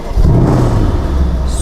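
A 2012 Mercedes CLS 63 AMG with its 5.5-litre V8 revs up loudly at close range. The deep throaty rumble swells and holds, with no one talking over it.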